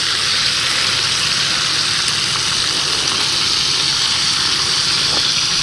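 Thick-cut applewood smoked bacon spread out in a pan on a camp stove, a steady, dense sizzling hiss of frying fat that continues evenly and close, with no talking.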